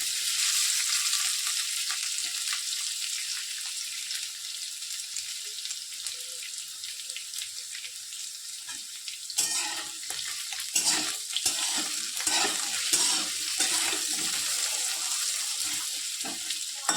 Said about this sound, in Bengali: এমনিভাবে সুন্দর লাল লাল করে ভাজতে হবে।